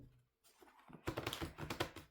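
Homemade, somewhat flimsy tarot cards being shuffled by hand, a quick run of crisp riffling clicks and flutters following a brief quiet start, close and fairly loud with no talking.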